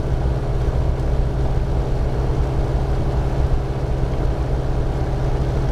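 Rotax-powered Sinus 912 motor glider engine running steadily at 4000 RPM during a magneto check, a loud continuous droning hum with no talk over it.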